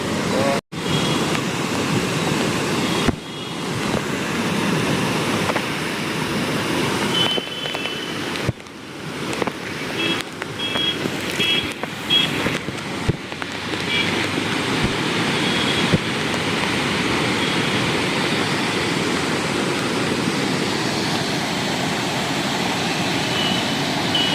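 Fast floodwater runs in a strong, steady roar during heavy rain in Junagadh, loud and continuous, broken by a few brief knocks and clicks near the listener.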